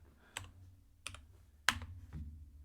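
Four separate clicks from a computer keyboard, typed one by one with short pauses between them, sound close and fairly quiet in a calm room.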